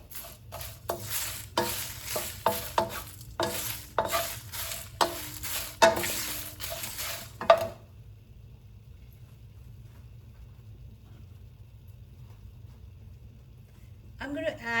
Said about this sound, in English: Still keep stirring sure that there is no burning on one side because the kadai is still hot.